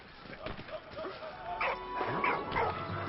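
Dog barking inside the video game Soldats inconnus, a few sharp yips and barks scattered across a short stretch over game background sound.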